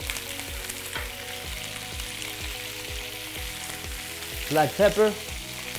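Bone-in short ribs sear face down in a hot pan with a steady, even sizzle, while someone speaks briefly and soft music plays underneath.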